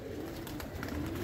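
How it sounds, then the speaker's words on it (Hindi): Soft, low pigeon coos murmur faintly in the background amid steady ambient noise. "ये तीन कबूतर मैंने उड़ाए थे"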